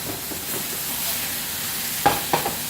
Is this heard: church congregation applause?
no